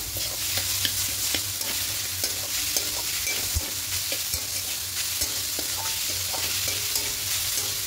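Sugar and cardamom being stirred into a coconut filling in a pan, with a continuous loud sizzle under repeated scraping and clicking of a spoon against the metal, no voices.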